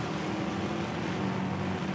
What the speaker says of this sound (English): So we are revving up the engine.